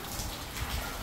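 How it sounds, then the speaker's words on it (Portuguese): Heavy downpour falls outdoors during a sudden storm with strong wind, a dense, steady hiss of rain striking surfaces, loud and continuous with no voices. "Começou a bater um toró brabo aqui"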